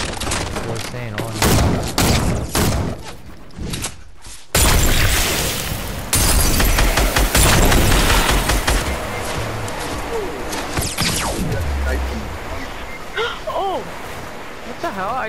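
Bursts of gunfire and sniper shots in a multiplayer battle royale shooter, loud and dense with rapid volleys and booming hits, broken by a brief silence, with players talking over the fighting.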